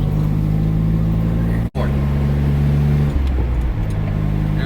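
A Subaru Justy engine drones steadily while driving in fourth gear at around 35 to 40 miles an hour, a low sustained hum and road noise, close and continuous, briefly cut out partway through, then carrying on with a slight change in pitch.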